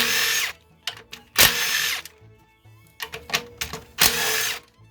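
A power tool loosens the eight wire-connector bolts on the high-voltage inverter of a third-generation Toyota Prius. It gives several loud, close whirring bursts mixed with brief rattling clicks, and there is no talking.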